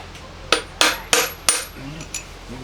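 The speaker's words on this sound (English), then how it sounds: "give it just a little tap with the hammer and chisel" A hammer strikes a chisel set on a stripped Allen bolt in a motorcycle engine, four crisp metallic taps in quick succession followed by two softer ones, close and clear in a quiet space.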